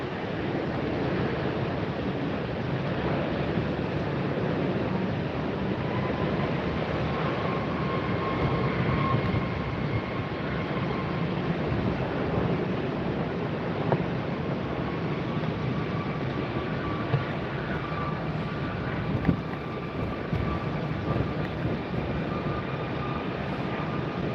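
A Southwest airliner taxiing at Tampa airport on a very windy day: a continuous jet engine whine with a faint tonal hum, heavy wind rumble throughout, and no speech.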